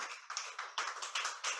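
Audience at a NuggetsDay Naija 2022 speaking event clapping, a sparse, faint patter of a few hands in uneven bursts, with no talk over it.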